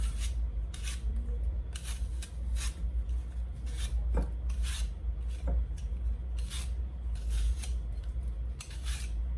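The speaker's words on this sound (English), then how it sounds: "I'm using a peeler, you can use a knife." An apple being peeled with a peeler for a cake, giving repeated short scraping strokes in a steady rhythm, close up and over a constant low hum.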